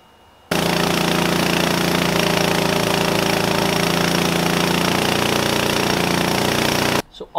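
A Ducar 212 small engine runs on a dyno, a loud, steady mechanical roar that starts abruptly, holds constant for several seconds, then cuts off with brief rustling noises after.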